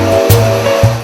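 A hair dryer blows cool air over freshly roasted coffee beans, a loud, close, steady whoosh with a motor hum that dips briefly twice in one second.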